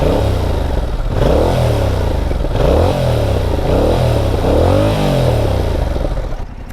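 Yamaha MT-07 2021 motorcycle engine revving repeatedly, the pitch rising and falling in about four swells over a steady loud idle, close-up with no talking.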